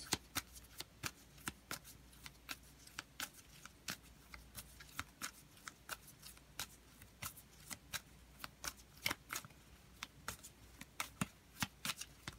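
Tarot cards are shuffled quietly by hand, a long run of crisp rapid riffles and flicks in an uneven rhythm, close and soft with no talking.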